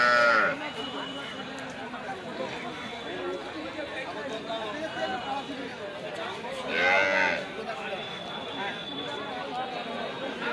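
Young heifers at a busy rural cattle market haat, with occasional lowing and other livestock sounds half-buried under constant crowd chatter and nearby voices.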